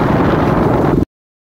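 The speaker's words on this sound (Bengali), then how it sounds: "আমাদের বাইকে যে আওয়াজ আছে তা খারাপ।" A loud, rumbling motorbike engine drone with a bad-sounding noise, close and steady, cutting off abruptly after about a second.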